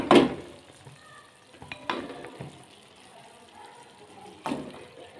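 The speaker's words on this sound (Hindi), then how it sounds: "अब हम ऐड करेंगे फ्रेश बीन में आलू" Potatoes tip into a pan of sizzling fresh green beans with a sharp clattering splash up front, followed by a low, steady fry and a couple of softer stirring knocks and later clatters.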